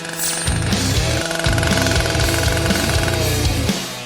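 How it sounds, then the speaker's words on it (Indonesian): A saw used to grind berries gives a loud, steady mechanical rattle, a dense pounding buzz that pulses in even beats for several seconds with no voices. "Aku tidak butuh gergaji lagi."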